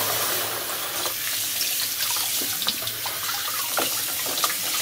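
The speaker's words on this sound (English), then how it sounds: "Now let me go ahead and rinse the fish." Tap water pours steadily from a kitchen faucet into a sink as fish is rinsed, a close, continuous hiss and splash with small clinks and knocks, no voices.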